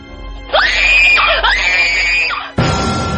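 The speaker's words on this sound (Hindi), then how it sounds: "राशि जोर से चीखी" A woman lets out two long, loud, piercing screams in close succession, then a sudden shift to a different background sound.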